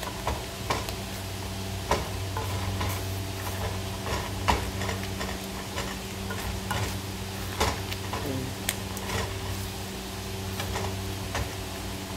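Eggs frying in a pan for breakfast, a steady soft sizzle with small ticking pops and occasional clinks of a utensil, close and continuous with no talking.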